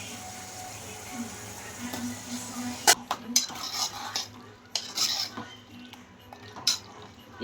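Small potatoes go into a pan of frying ingredients for a potato prawn curry: clinks and clatters of utensils against the pan, scattered knocks and scrapes over a faint sizzle, fairly quiet and close.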